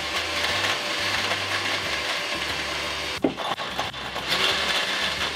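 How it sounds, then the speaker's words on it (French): A kitchen blender grinds cauliflower into crumbs for a pizza crust, a loud, dense whirring roar broken by a few brief stutters and knocks midway before it resumes steadily. "quand on n'a plus de place dans son mixeur comme moi, on va commencer par la première étape, on va tout mixer"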